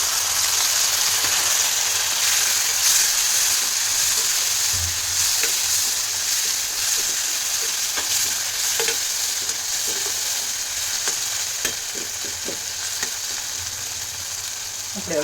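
Chopped tomato fries in a pan with a continuous loud sizzle and hiss, broken by occasional scrapes and taps of a spoon stirring it, heard close up without any talk.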